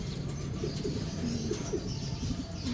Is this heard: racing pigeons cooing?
yes